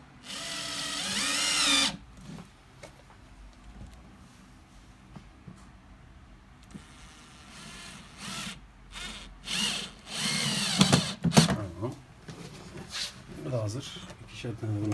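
A power screwdriver drives screws into flat-pack wardrobe panels in short, close whirring bursts, with a person talking between and over the driving.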